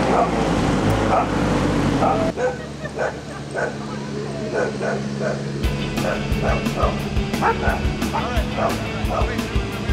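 Several dogs bark and yip repeatedly over the continuous engine rumble of a Sherp amphibious off-road vehicle at a retired motocross track, with people talking underneath.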